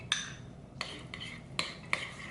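A sauce with pickle and onion mixture being stirred in a bowl, with a few sharp clinks of a utensil against the bowl over a soft background, close and quiet.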